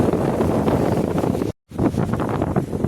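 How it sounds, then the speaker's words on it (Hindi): Strong wind buffets the microphone on Khai Island near Phuket, Thailand, a loud continuous roaring rumble that drops out for a split second before resuming. "बहुत ही तेज़ हवा यहाँ पे चलती हुई,"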